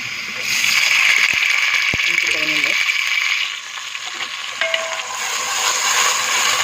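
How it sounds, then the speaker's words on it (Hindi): Water poured into a pan of fried onions sets off a loud, hissing sizzle that fades after a few seconds into a softer, steady frying crackle, with a few clinks of a utensil. "प्याज फ्राई हो चुका। अब हम इसमें डाल देंगे थोड़ा सा पानी।"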